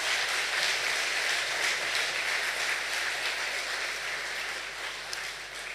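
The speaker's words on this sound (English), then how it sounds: "Can I ask that you join me in giving them a lusty round of applause?" Audience applause for a graduating class at a graduation ceremony, a steady dense wash of clapping holding throughout and easing slightly toward the end.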